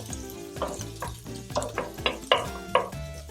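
Shallots sizzling in a pan for lemony shrimp linguine, a steady close fry marked by several quick scraping stirs of a utensil on the pan.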